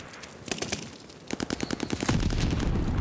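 Rapid automatic gunfire in a first-person shooter video game rattles out in several close, loud bursts, with sharp rhythmic cracks that grow denser toward the end.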